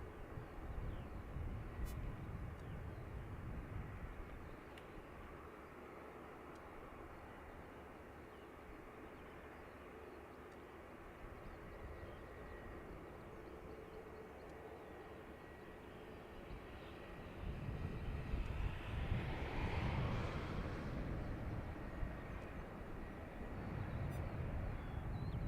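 An Aer Lingus retro-liveried jet from Naples arrives at Dublin Airport, its engines a low, broad, distant roar that swells louder near the end, heard outdoors over wind.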